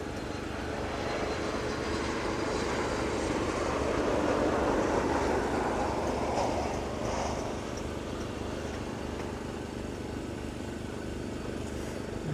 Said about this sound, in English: a very wet touchdown into East Midlands